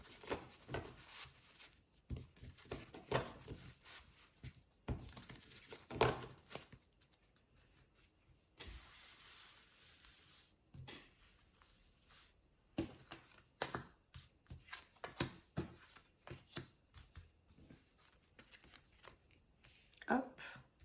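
Tarot cards being shuffled and drawn: soft riffling flutters and slapping card snaps in irregular bursts, close but quiet, with a voice talking intermittently between them.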